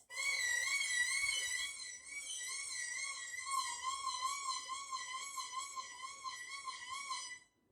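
A bowed violin note wavers and slides up and down in pitch as a finger slides along the string, a continuous siren-like wail held for several seconds.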